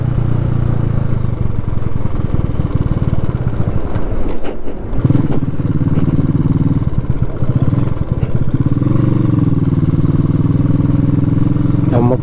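A motorcycle drones steadily along a Dindigul highway while passing a toll booth, its mid-pitched engine loud and close with shifting revs and wind buffeting; someone talks over the ride at times.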